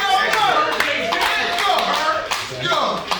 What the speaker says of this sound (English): I gotta clap it up.